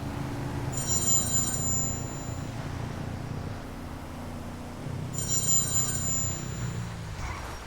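Two bursts of a mobile phone ringtone, moderately loud, ring out over a continuous low engine and road rumble from a GTA game being played.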